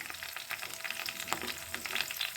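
Cumin seeds and Byadgi chillies frying in hot oil with mustard seeds and curry leaves, a steady close sizzle broken by a few sharp pops and faint stirring, with no talk.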